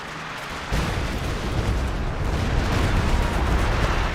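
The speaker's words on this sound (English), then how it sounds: "here do you have now T-476 getting some shots over here." A T-34/76 tank in Company of Heroes 2, a real-time strategy video game, fires in a sudden heavy blast that rolls into sustained booming rumble and battle din.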